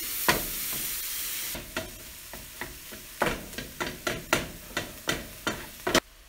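Venison burger and onions brown in a pan over medium heat, with a soft sizzle broken by a steady run of scraping stir strokes.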